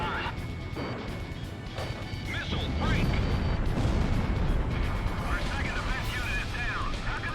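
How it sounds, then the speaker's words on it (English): Surface-to-air missiles and explosions in the jet combat game Ace Combat Zero, crashing blasts and a swelling rumble over engine noise, loud and close. "All right, surface air missiles."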